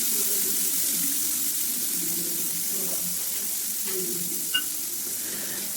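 Spice paste dropped into hot oil in a kadai while making paneer without onion or garlic gives a steady, broad sizzle that runs throughout, with a few faint clinks and bubbling pops.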